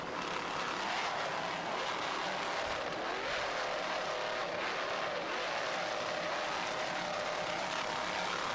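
Airborne, an M class offshore racing powerboat with Mercury High Performance engines, running at Key West in April 1994, gives a continuous loud, roaring engine drone that swells and fades slightly, with no voices.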